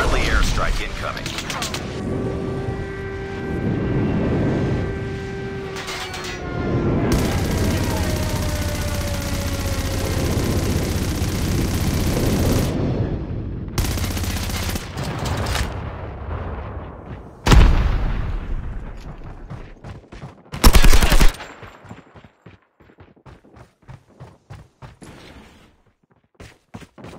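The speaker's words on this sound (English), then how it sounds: "Friendly airstrike incoming." Airstrike explosions and gunfire in the Call of Duty Mobile video game, with sustained loud blasts and rumbling, then sharp bursts of shots near the end, under in-game radio voice callouts.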